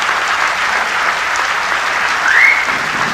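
An audience at a mushaira applauds to welcome poet Javed Akhtar, sustained even clapping from a sizable crowd that swells briefly near the end.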